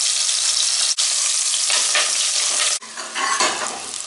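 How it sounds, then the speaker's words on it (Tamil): Onions sautéing in a pan over a slow flame for veg pulao: loud, close, hissing sizzle with stirring, cut by two brief pauses before resuming strongly. "வெங்காயம் நல்லா வதங்கட்டும்"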